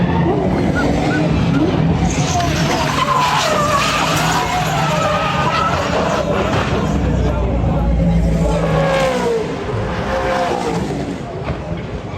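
A motorsport race crash with tires skidding and screeching over roaring engines, all heard under a commentator's continuous talk.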